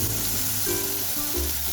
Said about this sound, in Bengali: হালকা করে ভেজে নিয়েছি,